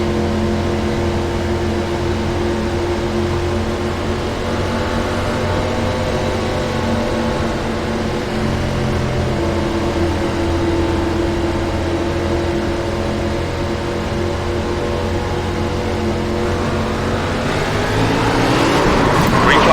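Race car engines droning at the green-flag start in iRacing, a loud sustained engine hum with layered tones from several cars, swelling as the cars accelerate near the end, with a voice talking over it.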